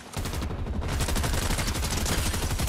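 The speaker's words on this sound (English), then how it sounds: "He's shooting." Rapid continuous automatic gunfire in Fortnite: a dense, loud, unbroken stream of shots lasting several seconds, with a brief dip in the bright crackle early on.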